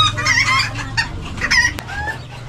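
Large chickens cluck at a pet market in Bocaue, a busy run of close, repeated clucks and squawks over a low steady hum.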